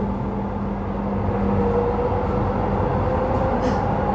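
Steady low rumble and rolling hum inside a moving Cikarang–Jakarta commuter train carriage, with a faint tonal whine and soft rail rattles throughout, no talking.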